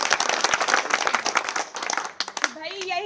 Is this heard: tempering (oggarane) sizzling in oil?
no